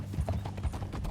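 Horse hooves clip-clop in Red Dead Redemption 2, a short run of close, quick, even hoofbeats on the ground.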